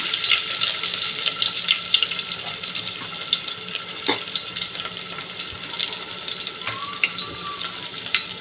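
Curry leaves hit hot oil in a pot for veg biryani gravy, producing a continuous close crackling sizzle with a few sharper pops and spoon taps scattered through it.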